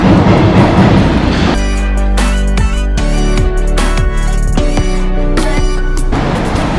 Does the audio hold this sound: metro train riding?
yes